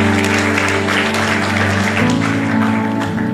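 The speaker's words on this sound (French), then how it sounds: "Acclamez d'abord, je veux clôturer ici." An audience at a church sermon claps steadily, the applause blending with sustained keyboard or organ chords that shift partway through, everything loud and close.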